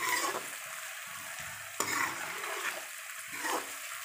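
Masala for a chicken dahi curry is stirred and fried until brown, with a steady close sizzle and scraping spoon strokes in a pan.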